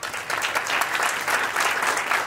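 An audience at a round-table conference applauds the speakers, a dense, steady wash of clapping from many hands that holds evenly throughout.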